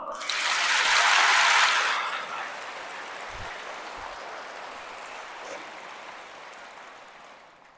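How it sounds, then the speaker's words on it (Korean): A congregation at a Catholic retreat in a church bursts into loud applause that swells for about two seconds, then thins into a lingering, reverberant wash as the clapping dies away. "박수!"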